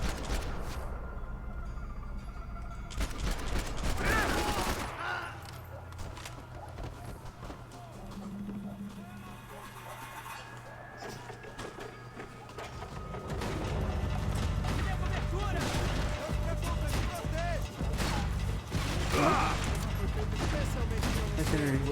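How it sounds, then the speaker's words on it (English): Gunfire from the video game Max Payne 3 crackles in scattered bursts and volleys over a low rumbling game soundscape, with a voice talking through parts of it. "There's gunshots?"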